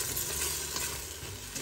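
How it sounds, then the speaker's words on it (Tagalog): Tomatoes sautéing for a seafood soup make a steady, soft, continuous hiss and sizzle in a pan, fairly quiet and unbroken. "nasautay na natin yung kamatis"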